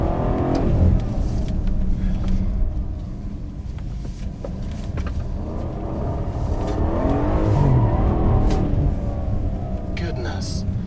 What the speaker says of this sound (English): under overrun, it gives you nice, subtle, but very throaty pops and crackles